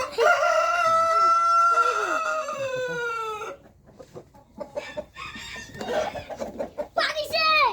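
Fancy hens cluck in a scattered, uneven run while a rooster crows nearby in a long, loud, rising-falling call, with voices talking in the background on a poultry yard where hens lay eggs on the ground.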